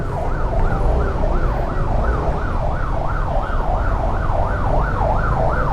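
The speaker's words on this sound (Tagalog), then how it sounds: "may ambulansya kailangan natin makagilid" A loud wailing ambulance siren sweeps up and down in a steady repeating cycle, close by, over low road and engine rumble in traffic.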